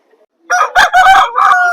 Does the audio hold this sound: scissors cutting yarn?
no